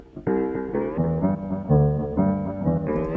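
AI-generated song in RipX DAW with reverb pushed to 100%, a short loud melodic phrase of sustained, smeared notes blending into one another, heard alone without talk.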